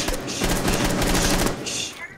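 Rapid bursts of automatic gunfire in Rainbow Six Siege crackle continuously, dense and loud, with a voice faintly underneath.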